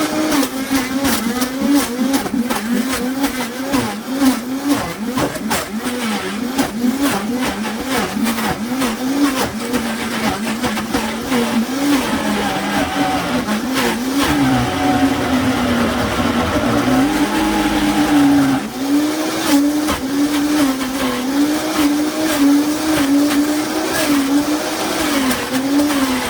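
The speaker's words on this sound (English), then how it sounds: "we're going to start off on low on the Vitamix. Turn it on. And I'm going to move it up to high." A Vitamix blender runs on low, then high, while mixing ice cream: a loud, continuous motor roar and churning whine close by, with a wavering pitch and no talking over it.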